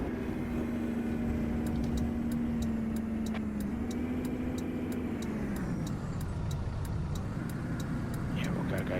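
A bus in the Bus Driver Simulator: Countryside video game rumbles off-road with a steady, droning engine note that shifts pitch slightly as it bounces along, accompanied by faint repeated ticking.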